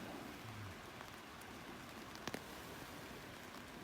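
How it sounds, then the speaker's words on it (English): Steady, quiet rain pattering on a hammock tarp at night on a floodplain campsite, an even hiss with a couple of slightly sharper drop taps partway through. "enjoying the sound of the rain on my top"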